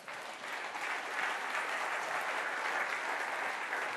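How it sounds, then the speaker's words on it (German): Applause from an audience at a talk on NADH, a steady wash of clapping throughout, moderately distant and fairly soft, with no speech over it. "Ich verdiene nicht den Applaus, die Substanz verdient den Applaus."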